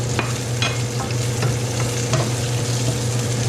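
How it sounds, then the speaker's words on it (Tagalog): Onions sauté in a pan in a loud, continuous sizzle with stirring scrapes over a low steady hum; no one speaks. "So ngayon, tayo magigisa naman ng sibuyas."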